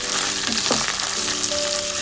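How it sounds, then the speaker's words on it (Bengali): Onion frying in a pan with ginger and garlic paste, a steady loud sizzle with small crackles, no voices. "আদাটা মিক্স করে নিয়ে রসুনের পেস্টটাও পেঁয়াজটার মধ্যে দিয়ে ভালো করে ফ্রাই করে নেব।"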